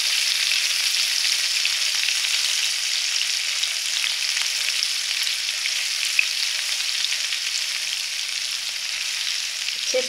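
Green chilli and grated ginger sizzle steadily in hot oil in a pan, a constant close hiss of frying with a faint stir near the end, no talking.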